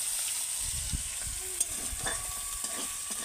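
Finely chopped onions fry in hot oil in a pan, a continuous sizzle broken by scraping stirs and small crackles, with no voices.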